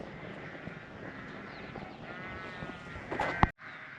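Flock of ewes moving along to the yards, with faint, distant bleating scattered over a steady outdoor background and a louder call near the end.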